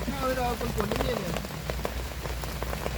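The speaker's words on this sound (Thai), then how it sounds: "เวลาฝนตกมาเยอะ" Heavy rain pours steadily onto surfaces in a humid jungle, a dense continuous patter with scattered drops standing out, while a voice speaks briefly early on.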